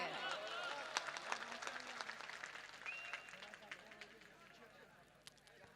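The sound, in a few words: audience applause at a speech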